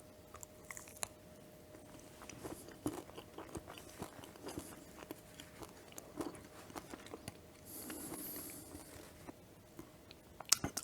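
Someone bites into and chews chocolate peanut butter caramel bars, with close, soft crunching and squishy chewing noises spread across the stretch, plus a brief rustle partway through.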